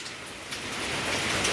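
Rain falls steadily in Goa, a dense, even hiss of drops on surfaces, close and moderately loud with no voices.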